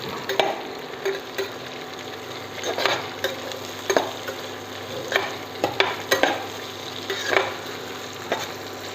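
Sliced ginger and garlic frying in hot oil for a Kerala-style beef curry, with a steady soft sizzle broken by repeated scraping clicks of stirring, close and alone with no voices.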